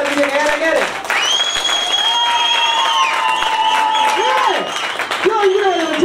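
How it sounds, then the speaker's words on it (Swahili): A church congregation applauds with dense, sustained clapping, while long high ululation rises above it and carries on through the crowd noise. "Tupigie Kristo makofi ikiwa ni shukrani na vigelegele."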